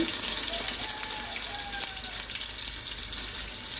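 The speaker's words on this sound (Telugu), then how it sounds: "అల్లం వెల్లుల్లి పేస్ట్ బాగా ఫ్రై అవ్వాలండి" Ginger garlic paste fries in a pot for prawn biryani, giving a steady, dense hiss and sizzle that holds at constant loudness throughout with no talking.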